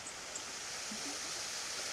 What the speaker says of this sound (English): we have some paddles that go into the water, and effectively in this case that's the plug that then releases the water out